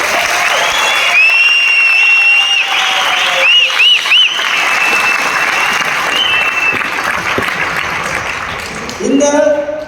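An indoor audience at a speech event claps loudly and continuously for several seconds, a dense wash of hand claps with a few whistles and shouts rising over it, then a voice cuts in near the end.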